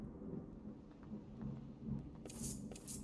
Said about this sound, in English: I think there's a storm a-brewing.